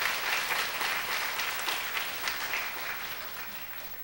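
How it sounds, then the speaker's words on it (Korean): A church congregation applauds the teachers during a Sunday morning worship service. The broad, sustained clapping continues evenly throughout, with no talking over it. "선생님들 격려의 박수 한번 해주시길 바랍니다"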